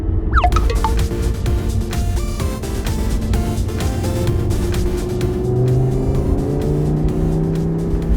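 A supercar at a Bangkok-style club meet drives with a steady engine drone and low rumble throughout, with a brief higher rev near the start and no talk over it.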